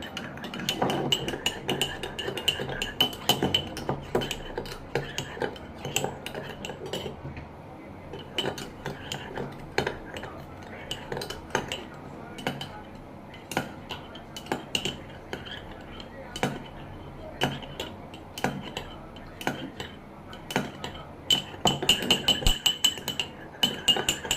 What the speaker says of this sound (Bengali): এখানে হয়ে গেছে কফি মাখা